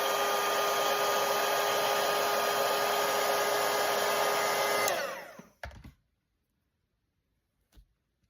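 A hair dryer blows steadily and loudly across a watercolor painting of swans for about five seconds, then switches off and winds down into near silence with a faint knock at the end.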